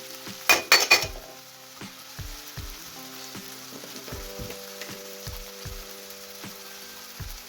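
Cabbage and potato sabzi sizzles gently in a pan while a utensil stirs it, with a few sharp clanks at first and then a series of soft scrapes and taps.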